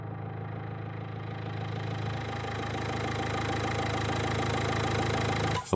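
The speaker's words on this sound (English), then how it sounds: "And we have our car sound here." A car engine sound effect plays on a steady loop in an Unreal Engine 4 demo. The idle is a constant mid-low hum with a faint knocking texture, holding even and alone throughout.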